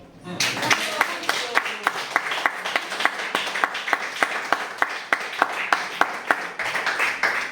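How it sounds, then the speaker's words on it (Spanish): A small group claps for a child's drawing made for a church, with distinct rhythmic hand claps at a steady beat running for several seconds, fairly close and moderately loud. "Un aplauso."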